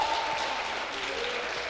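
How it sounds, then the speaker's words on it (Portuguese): Church congregation applauding harder during a worship service, a steady, even wash of many hands clapping at once, fairly quiet and continuous with no talk over it. "Mais forte esse aplauso"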